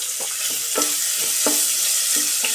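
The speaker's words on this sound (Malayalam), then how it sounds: "ഇനി നമ്മൾ ഇഞ്ചി വെളുത്തുള്ളി പേസ്റ്റ് ഇട്ട് ചെറുതായിട്ടൊന്ന് വഴറ്റാം" Ginger garlic paste and green chillies sauté in a hot pan for a stew, a continuous sizzle broken by regular scraping strokes of a spoon stirring about every half second, close and clear.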